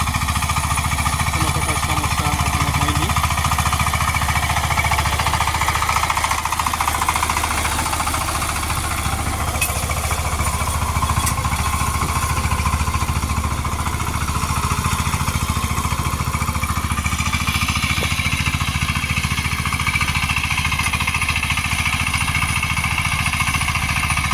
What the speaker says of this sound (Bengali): আঠাশ ব্লেড পাওয়ার টিলার কোনো প্রকার সমস্যা করে না অনেকটা ভালো করে ভালোভাবে চাষ করা যায়